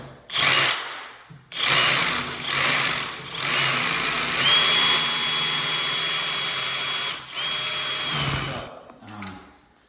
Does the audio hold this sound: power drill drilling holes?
yes